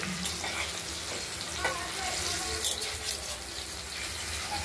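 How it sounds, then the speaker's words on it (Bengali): Paneer pieces frying slowly in hot oil for a paneer and potato curry, a steady close sizzle with occasional soft stirring clinks and no voice. "দেখতে পাচ্ছেন পনিরের পিসগুলোকে ভেজে নেওয়া হচ্ছে"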